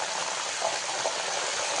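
Salted water splashes into hot oil where banana chips are frying, setting off a loud, steady hiss and bubbling sizzle that runs unbroken for under two seconds.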